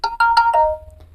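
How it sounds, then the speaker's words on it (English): "Clear" notification sound on a Motorola G06 Power phone: a quick run of four bright, bell-like tones, the last one dropping lower and ringing out, followed by a faint tick, played close and clean. "Here for example, I'm gonna change it to this clear one."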